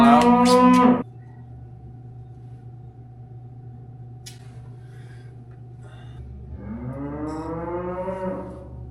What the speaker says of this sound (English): we're gonna get 2 calves that are 7 days old